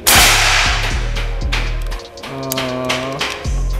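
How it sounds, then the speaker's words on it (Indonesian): A single sharp air rifle crack right at the start, followed by a low, droning hum with faint clicks. "Tembakan yang kelima seperti ini."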